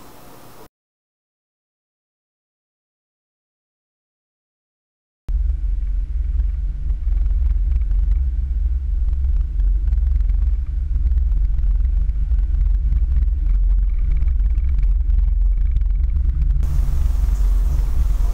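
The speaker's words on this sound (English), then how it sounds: "The car was driven at a speed to simulate the movement of a heritage streetcar on a pedestrian mall." A car rolls slowly along Sparks Street, a pedestrian mall in Ottawa, standing in for a heritage streetcar: a steady low engine rumble carries on without a break after several seconds of silence, close by and fairly loud.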